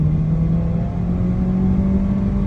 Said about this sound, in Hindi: और इंजन बहुत शोर कर रहा है